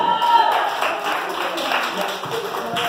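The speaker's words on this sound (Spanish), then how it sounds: "Fuerte los aplausos, por favor" Applause from a party crowd at a clown show for a bachelorette or adult birthday in San Pedro Xochimilco, a steady wash of clapping with a voice over it.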